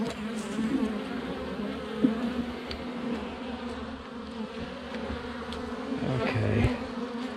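Honey bees buzz around an opened hive during a one-week check, a dense, continuous hum of many insects close by, with a few individual bees droning louder as they pass.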